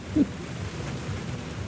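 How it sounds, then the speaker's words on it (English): Steady rain patters on a tent during a stormy night at Burning Man, a soft continuous hiss with low rumbling underneath and a brief hooting tone near the start. "but now it's raining, which means mud"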